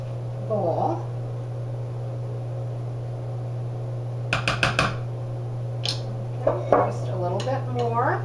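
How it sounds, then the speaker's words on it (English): A spatula scrapes fudge bar batter out of a mixing bowl in a home kitchen, a few short clattering scrapes and knocks against the bowl over a steady appliance hum, with someone talking in between. "Let me go get the rest of this out of the"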